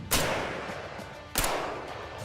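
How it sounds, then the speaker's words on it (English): Two distant gunshots, each a sharp crack followed by a rolling echo that trails off, about a second apart. "the distant recordings that we can use for distant gunshots in the game"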